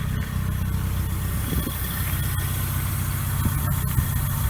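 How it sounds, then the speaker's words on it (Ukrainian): A ZAZ Slavuta car with a quiet new Bosal exhaust idles without choke, a steady, low, throbbing rumble, unchanging and continuous throughout. "Хочу, щоб ви послухали, як машинка працює без підсоса на своїх холостих оборотах."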